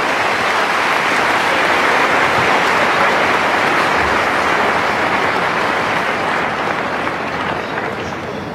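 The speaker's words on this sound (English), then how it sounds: "A huge round of applause." A large arena audience applauds at the retirement and farewell ceremony for the dressage horse Valegro at London Olympia, a dense, loud, continuous roar of clapping that carries on steadily throughout.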